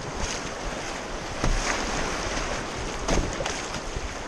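A canoe hull thumps the shallow rocky bottom of a river, giving two dull knocks over steady rushing water and wind noise.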